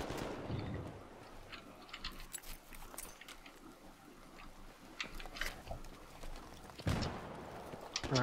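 Gunfire in the video game Battlefield 3, scattered single shots and short bursts, faint and uneven, with game sounds in the background.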